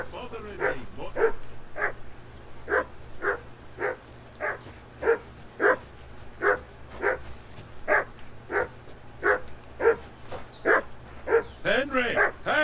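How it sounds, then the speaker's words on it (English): A dog in the medieval video game Kingdom Come: Deliverance II barks steadily in a regular rhythm of about two barks per second, close and clear, with a low steady hum beneath and a short burst of talk at the end. "Call off that mutt of yours!"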